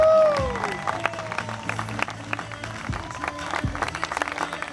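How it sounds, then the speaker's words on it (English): Scattered crowd applause and cheering at an outdoor Ski Broncs water-ski show, lighter, uneven clapping with whoops and a bright whistle-like tone near the start, against open-air background noise. "A nice round of applause for Tyler and Riley"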